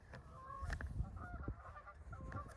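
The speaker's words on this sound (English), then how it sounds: "Geese." Faint honking from geese at a distance, several short calls scattered over a low background rumble.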